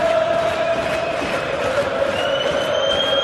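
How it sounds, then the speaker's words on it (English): Steady roar of the darts crowd inside Alexandra Palace at the 2011 PDC World Championship, Walsh against Pipe, a continuous loud wash of cheering and chatter with no break. "Crowd loving every minute of this here at the Alexandra Palace."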